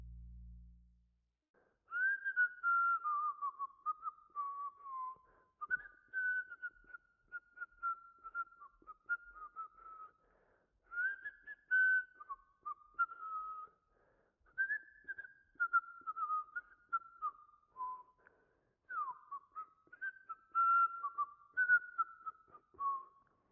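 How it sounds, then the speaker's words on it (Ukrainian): A lone whistler repeats the same cheerful melody in phrase after phrase, clear and steady against a silent night backdrop, with brief pauses between lines. "Свистун завжди насвистує одну й ту ж саму мелодію."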